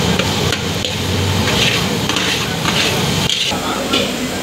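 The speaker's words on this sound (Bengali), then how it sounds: "আলু পোস্ত করেছি, সেই সঙ্গে চিকেন কষা আজকে হচ্ছে।" Chicken kosha is stirred and fried in a large pot for a Sunday langarkhana community kitchen in Purba Bardhaman, with continuous sizzling and scraping stirs close by and some rough clatter.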